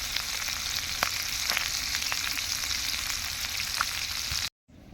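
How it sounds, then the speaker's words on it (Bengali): Chanda fish fry in a pan, giving a dense, continuous close-up sizzle sprinkled with small sharp crackles and pops until it cuts off abruptly near the end. "তো মাছগুলো আমি সবগুলো এভাবে ভেজে নিব"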